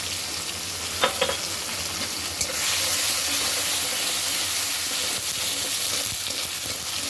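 White cumin and coriander powder fry in hot oil for a dal and fish curry, giving a steady, loud sizzle throughout with a couple of faint clinks early on.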